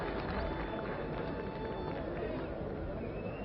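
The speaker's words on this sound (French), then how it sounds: "Et le public applaudit," A stadium crowd at a 1972 Tournoi de Cannes football match between Argentina and Brazil applauds and cheers in a steady, dense roar, muffled like an old broadcast recording.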